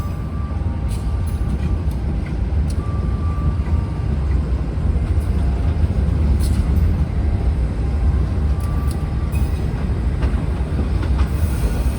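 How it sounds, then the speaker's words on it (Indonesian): Blambangan Express passenger train running on rails, a steady loud rumble of wheels and carriage with faint clickety-clack, heard from aboard throughout. "perjalanan kereta api Belambangan Express telah tiba di stasiun Probolinggo"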